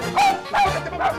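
A dog gives three short yipping barks, evenly spaced and close, each with a whiny tonal edge, with no other sound between them.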